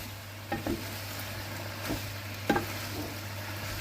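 Thai-style pasta stir-fried with minced pork and holy basil in a pan, with a steady low sizzle and a few scattered scrapes and clinks of a utensil stirring, no talking.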